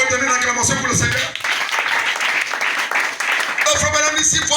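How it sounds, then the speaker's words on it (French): A church congregation applauds and cheers for the Lord during a worship service, a dense burst of clapping and voices swelling between stretches of sung or spoken sound, loud and close. "Vous pouvez donner une acclamation pour le Seigneur."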